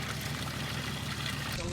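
Water pours steadily onto a $1000 race track, a faint, continuous splashing rush with voices talking over it.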